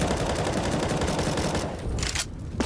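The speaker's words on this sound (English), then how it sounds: "They have to commit to the gunfights, and Steel's flank down ramp could be enough" Dense, sustained gunfire rattles through a Counter-Strike: Global Offensive match at a DreamHack Masters tournament, continuous rapid shots that break into a few sharp separate bursts near the end.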